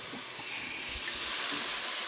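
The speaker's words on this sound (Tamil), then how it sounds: "அதுக்கு இந்த சிக்கன் பொரியட்டும்." Chicken pieces fry in a pan of oil during biryani preparation, giving a steady close sizzle and hiss with a few soft bubbling pops and no speech.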